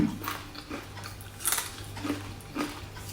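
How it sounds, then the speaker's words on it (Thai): Crunchy sugar-coated fried banana chips bitten close up, with a few sharp crisp crunches spaced out over a few seconds amid soft chewing, no talk. "เดี๋ยวมาชิมด้วยกันเลยนะคะ ว่าจะกรอบขนาดไหนนะคะ"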